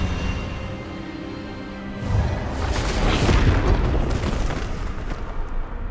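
An Expelliarmus spell blast in the video game Hogwarts Legacy, a booming, rushing burst that swells partway through and holds as a loud, rumbling roar before easing off.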